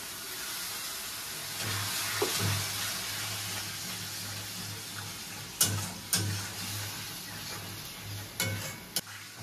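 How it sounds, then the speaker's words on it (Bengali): Spice paste fries in a pan with a little water added, a soft continuous sizzle under a low hum, punctuated by several crisp scraping knocks as it is stirred. "এবার অল্প অল্প জল দিয়ে কষাতে থাকবো"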